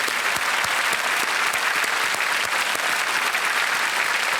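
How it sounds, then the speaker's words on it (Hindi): Studio audience applauding the expert on the quiz show Kaun Banega Crorepati, a steady, dense wash of clapping that holds evenly throughout with no talk over it. "तालियों के साथ हम इनका अभिनंदन करते हैं"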